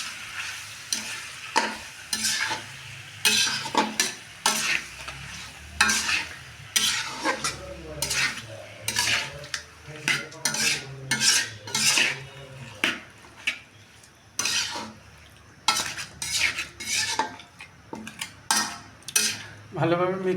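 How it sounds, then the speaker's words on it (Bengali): Marinated meat in sizzling oil is stirred with a spatula, producing rhythmic scraping strokes and clattering against the pan over a continuous fry, close and fairly loud. "মাংসটা এবার তেলের সাথে ভালোভাবে মিক্স করে নিব।"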